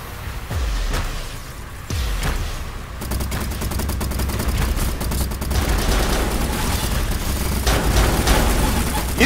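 Gunfire in a video game team deathmatch: a couple of heavy booming shots give way to rapid, sustained automatic fire, loud and close, with mechanical clatter and a faint voice underneath.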